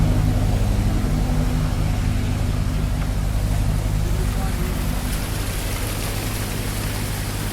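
Water gushes steadily from the two outlets of a 6x6 double PTO water pump driven by a Mahindra Arjun 555 tractor, a continuous rushing wash over a low engine drone that eases slightly toward the end.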